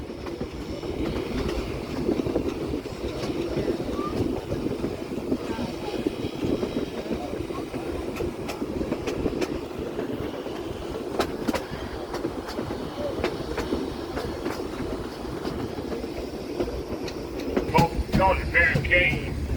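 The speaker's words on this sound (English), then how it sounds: "You can hear the gear clanking." Running gear of D&RGW #484, a narrow-gauge steam locomotive on the Cumbres and Toltec line, clanks and rattles steadily up close amid continuous rolling rail noise, with rhythmic clicks and occasional sharper knocks throughout.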